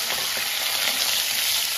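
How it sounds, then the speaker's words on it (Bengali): Potatoes frying in oil in a pan, being prepared for a fish curry, give a steady, dense sizzle that holds evenly loud and close throughout, with no talking. "মাছের ঝোলের আলুটা ভেজে নেবো।"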